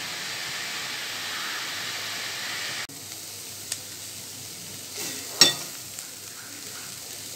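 Ponnanganni greens sautéing in a pan give off a steady sizzling hiss that quiets partway through, with a few soft clicks and scrapes of stirring toward the end.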